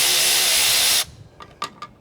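A power tool spins a lock nut off while an insulation blower is being repaired, giving one loud, steady whir that stops after about a second, followed by a few faint clicks and taps.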